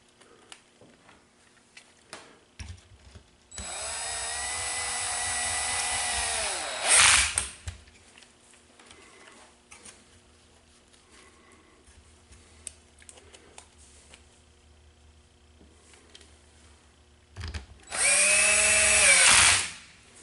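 A power drill runs twice while driving collared screws into a helicopter tail transmission. Each long, steady whir climbs and ends in a sharp rising whine, and the two runs are separated by quiet tool handling.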